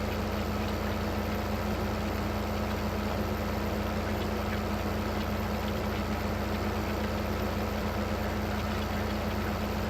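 Articulated tractor engine in the Farming Simulator 15 video game, a steady low diesel drone with a constant hum running unbroken and fairly loud throughout, no talking.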